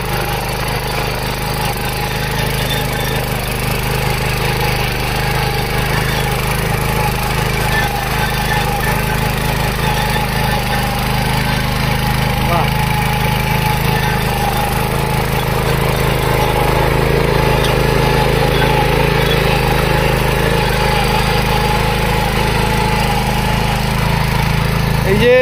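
A Hanni Greentech Power Weeder 7.5 mini power tiller runs loud and close in Cooch Behar, its small engine droning steadily and without a break throughout, with a faint voice now and then beneath it.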